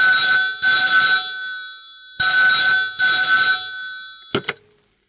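A telephone rings with two pairs of bright electronic trills, each pair followed by a short silence, then is cut off by a brief clatter as the receiver is picked up.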